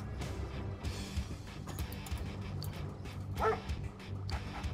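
A dog in the Red Alert 2 strategy game barks and yips in several short, separated bursts over a busy background of game sounds, moderately loud rather than close.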